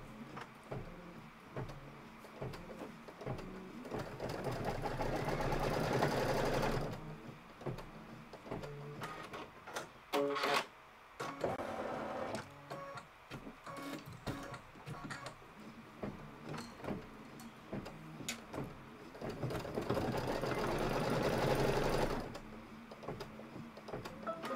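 Sewing machine running red thread while stitching the tack-down line of a gift box quilt block; a steady mechanical whir that surges in long runs, dips and pauses briefly, then resumes, close and without speech.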